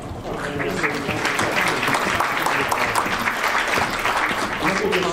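An audience at a world affairs conference applauds its panelists: a dense, continuous wash of clapping across the whole stretch, mixed with murmured voices.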